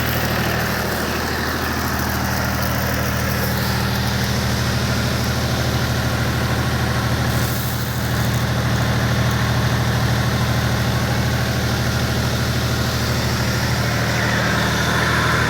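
Mini tractor engine running steadily with a homemade sprayer attached, a loud, close, continuous diesel drone with constant low rumble and mechanical whine, no talking over it.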